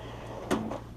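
A bottom drawer of a blue classroom table slides open or shut once, a single short thump standing out from steady room hum.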